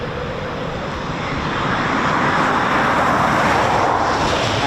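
A Eurofighter Typhoon FGR4 jet at RAF Coningsby, a broad roaring engine rush that swells louder partway through and holds steady.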